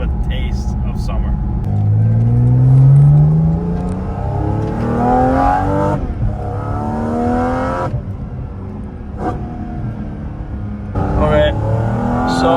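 A Porsche GT4RS engine revs and accelerates while driving, rising gear sweeps with brief pauses at each upshift, loud and close under someone talking.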